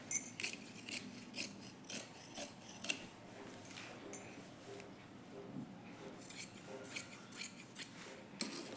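Scissors snipping blouse fabric for a boat-neck design, a series of short, quiet crisp cuts in an irregular rhythm, close up, with no speech.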